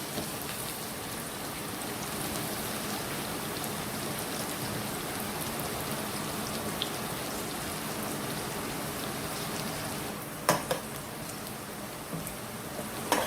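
Onions browning lightly in a pan for a mutton korma, a steady close hiss and sizzle that runs unbroken throughout with a couple of brief clinks near the end.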